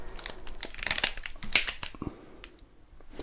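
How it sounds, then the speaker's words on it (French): Plastic wrap crinkles and rustles close up as it is pulled over a watermelon, a dense burst of crackling that fades off after a couple of seconds. "je vais recouvrir la pastèque de plastique"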